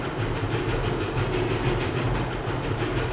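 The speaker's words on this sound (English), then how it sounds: "actual running noise of the steam engine, and it does sound very, very good" A Showman steam engine runs in Farming Simulator 22 with a steady, loud chuffing rumble and a faint rhythmic pulse, continuous throughout without talk.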